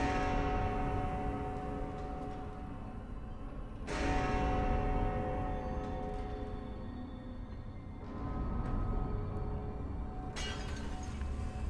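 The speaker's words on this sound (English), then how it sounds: "the bells strike at midnight" Clock tower bells strike midnight in The Room Three video game, three deep, resonant tolls spaced about four seconds apart, each ringing out and slowly decaying into a long humming tail.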